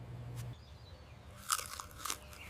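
Crisp bites into sliced cucumber make two or three short, close crunches, quiet overall and separated by brief pauses, with no talking.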